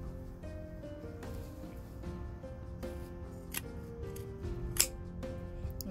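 Scissors cut through thick jean fabric with a few faint, separate snips spread over several seconds, under soft steady background music.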